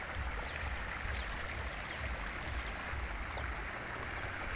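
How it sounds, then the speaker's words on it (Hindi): Steady rushing water from the Naininath waterfall stream during the rainy season, a constant broadband flow with no voices. "पानी आ रहा है, देखो आप, ये नैनीनाथ का झरना है"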